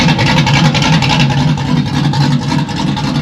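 A drag car's engine rumbles loud and steady in a Kroger parking lot, with a continuous low throaty roar and fluctuating revs throughout.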